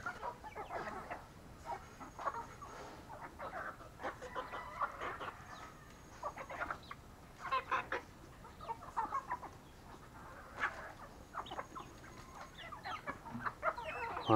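A small flock of backyard chickens clucks and murmurs during late-afternoon evening feeding. Soft, scattered calls overlap at moderate distance with no talking.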